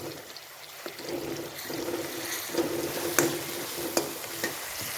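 Tomatoes softening in a pan for baingan bharta, a soft continuous sizzle with occasional light clicks of a spoon stirring, close and fairly faint.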